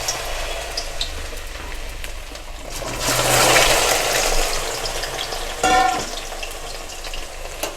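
Washed and dried gathi kochu taro pieces dropped into hot oil, a steady bubbling sizzle that surges louder for a few seconds, with stirring and a brief clatter.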